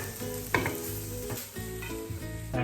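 Spam and kimchi sizzle in a frying pan as filling for Korean kimbap, a close crackling hiss broken by a few sharp scrapes as the pieces are stirred.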